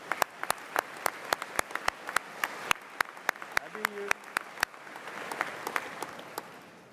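A graduation audience at a summer school commencement claps, sharp individual claps in a quick regular rhythm at a moderate distance that thin out and fade into a murmur toward the end.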